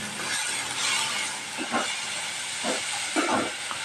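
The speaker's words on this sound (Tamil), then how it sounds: "கொத்தமல்லி துவையலுக்காக வதக்கிட்டு இருக்கோம்" Coriander sautéing in a pan for chutney gives a steady, bright sizzling hiss, with a few soft clinks and stirring scrapes breaking through it.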